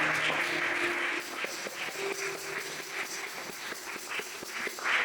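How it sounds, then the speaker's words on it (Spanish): Applause from a church congregation on a morning service: a dense wash of many hands clapping, fairly loud and continuous, with a few sharper individual claps standing out and faint tonal sounds beneath. "Vamos, denle ese fuerte aplauso a Dios en esta mañana."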